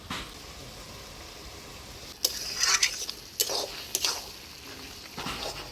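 Ash gourd ghonto with fish head, thickened with rice flour paste, stirred in a pan: a low simmer, then a few scraping, sloshing stirs in short bursts with pauses between them.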